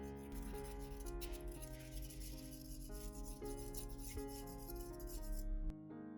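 Kitchen knife rubbed against an old battery to sharpen it, a steady close scraping and rasping that lasts throughout and ends abruptly.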